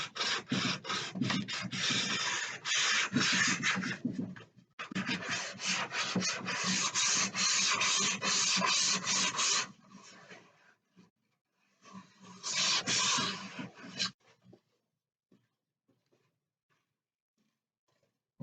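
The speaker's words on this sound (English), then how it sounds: "I'm folding the sandpaper in two to make a point. And then I can run that in that edgy space and get right in the corner" A dresser corner is hand-sanded with folded sandpaper, producing close, steady rasping strokes in long continuous runs that pause briefly, then resume before trailing off into quiet, with no speech.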